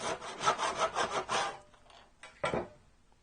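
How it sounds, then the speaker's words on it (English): A hand saw cutting wood held on a bench hook in a workshop: about six rhythmic rasping strokes, close and clear, then a pause and one final stroke. "with your saw, cut down"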